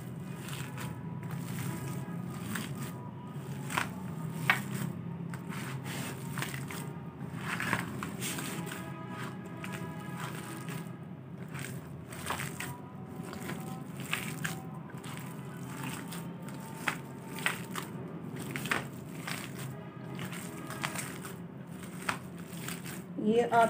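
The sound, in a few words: mixing shami kabab mixture of beef, egg and coriander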